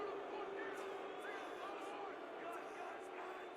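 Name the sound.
home crowd booing at a football game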